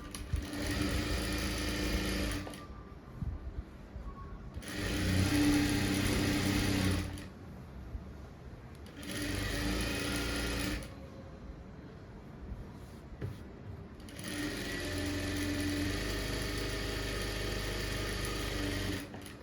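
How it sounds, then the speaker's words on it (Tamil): A sewing machine stitches a quarter-inch folded hem on a blouse. It runs in four steady bursts of motor whirring and needle clatter, with short quiet gaps between them and no talking. "இதை அப்படி மடித்து ஒரு 1/4 இன்ச்சில் தையல் போட்டுக்கணும்."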